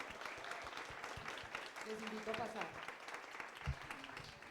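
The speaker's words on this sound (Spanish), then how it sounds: "Un aplauso para ella." Audience applause at a comic book launch event, scattered clapping with some closer individual claps, while someone speaks over it in Spanish.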